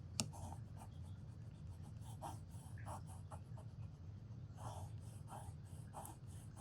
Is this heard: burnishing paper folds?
yes